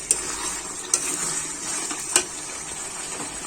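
Chicken curry with green chillies being stirred in a pan, a soft steady sizzle broken by a few sharp metallic clinks of the spoon against the pan.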